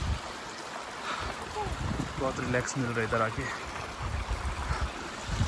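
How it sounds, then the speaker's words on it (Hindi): Rushing flow of a mountain stream in the Spiti valley, a constant broadband wash close by, with a person speaking briefly over it in the middle. "आवाज़ सुनो पानी की"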